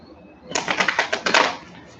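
Tarot cards riffle-shuffled up close: a dense burst of quick papery flicks lasting about a second, fairly loud against a quiet room.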